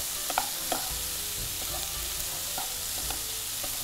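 A pan of mixture with grated coconut is stir-fried, giving a soft steady sizzle with light scraping stirs and occasional clinks of the utensil against the pan.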